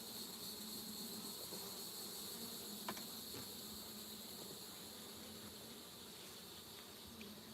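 Honeybees of a gentle temperament buzz in a steady, faint drone during a hive inspection, a continuous hum with occasional brief ticks and no talking.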